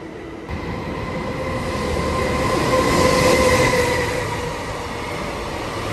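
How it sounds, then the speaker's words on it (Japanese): A freight train passing near Tsujido station, a steady rumbling roll of wheels on rails that swells toward the middle and eases off slightly, with faint metallic squeal and no voices. "こういった形で貨物も通ったりしますので"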